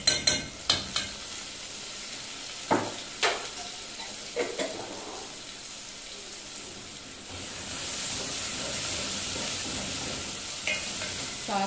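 Ginger and garlic sizzle in hot oil in a pan for arbi salan, stirred with a utensil that clatters against the pan in a few sharp scrapes at the start, then settles into a continuous frying hiss. The sound is close and moderately loud, with no talking.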